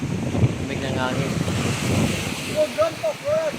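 Strong wind gusting high up in a tree at a roadside resort, a steady roaring rush close to the microphone with a voice speaking over it.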